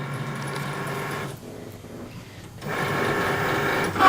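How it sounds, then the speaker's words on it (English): Cricut Maker cutting adhesive vinyl for custom cups gives a steady mechanical buzz and whir, dropping quieter for about a second mid-way before the motor noise resumes, close and alone. "Now it's cutting out our believe."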